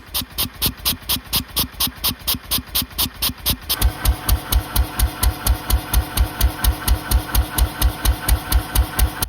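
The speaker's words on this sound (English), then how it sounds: "So we gave it a bit of time to warm up on petrol, and later on we tried it on kerosene for the first time." A 1926 National stationary engine runs on kerosene with a steady, loud, rhythmic thumping of evenly spaced firing beats. Partway through the beats grow heavier and deeper, as if under more load.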